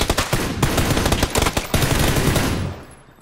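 Rapid bursts of automatic gunfire in PlayerUnknown's Battlegrounds (PUBG) crackle loudly and repeatedly, close by, with scattered single shots, before fading out near the end.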